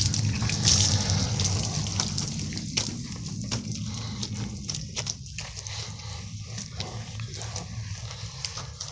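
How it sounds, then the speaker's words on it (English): Water gushes and splashes steadily from a hose into a bucket during a car wash, loud at first and then continuing with irregular spattering and dripping. "Water."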